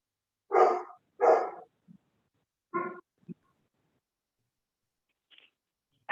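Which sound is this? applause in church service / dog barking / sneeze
dog barking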